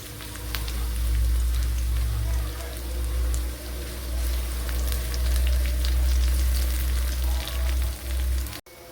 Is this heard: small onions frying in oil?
yes